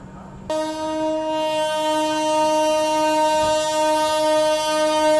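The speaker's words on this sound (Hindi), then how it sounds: "और ये कौन सी ट्रेन है जो स्किप कर रही है बाराबंकी को?" A train passes through Barabanki railway station in India, sounding a long sustained horn that starts abruptly and holds loud and steady over the rumble of rolling wagons.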